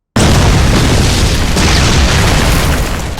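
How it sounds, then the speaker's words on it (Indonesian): A bomb explodes in a sudden, very loud boom after a brief silence, bursting in at once and rolling on as a dense roar that slowly fades. "Bom itu langsung meledak, menghancurkan seluruh tubuh Yoshiaki."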